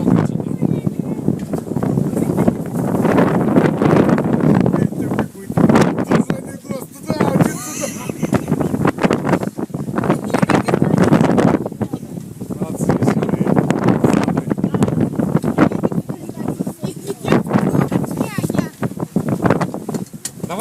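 Strong wind gusts buffet a sailing yacht, roaring loudly across the microphone in surges while people on board talk over it.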